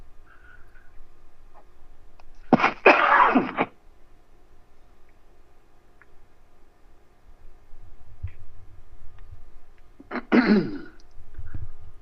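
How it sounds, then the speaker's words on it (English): Two separate harsh coughs, one early and one near the end, close and fairly loud against a quiet background hum. "I didn't really think this cough would come back and haunt me so much."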